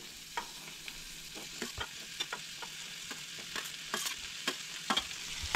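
Chopped onion and grated coconut frying in a pan for a Goan black-eyed bean curry, a steady close sizzle with repeated sharp scrapes and taps of the spoon stirring through it.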